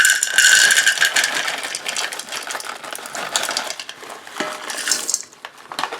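A cup of sugar-coated chocolate chips is poured into a bowl, a close, loud rattling clatter of small pieces that thins and trails off into scattered taps.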